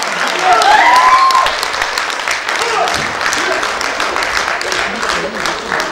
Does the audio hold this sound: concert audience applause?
yes